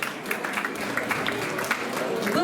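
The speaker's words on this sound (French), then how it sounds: "je vous demande de l'applaudir" Indoor audience applauding at a French club section celebration, a steady wash of clapping from many hands throughout, close and fairly loud, with some voices mixed in.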